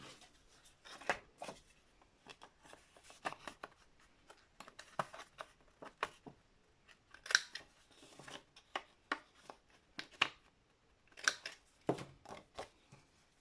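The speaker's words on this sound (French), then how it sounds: "Et enfin, le dernier, en n'oubliant pas de couper les deux angles." Scissors snip the corners of paper while making an accordion storage pouch: a series of short, crisp cuts in irregular bursts, close and quiet, with no talking.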